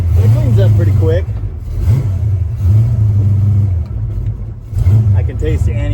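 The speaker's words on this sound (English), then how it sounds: "It's a little cold-blooded when it first fires off, but it cleans up pretty quick." A 408-swapped 1974 Dodge Dart Sport V8 idling and blipping after a cold start, a deep rumbling burble with short revs, while someone talks over it up close.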